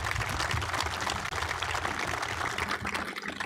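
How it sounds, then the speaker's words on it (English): A crowd at a baseball field opening ceremony claps steadily and densely for several seconds, a continuous wash of applause with no voices breaking through. "Let's give a round of applause to these players here."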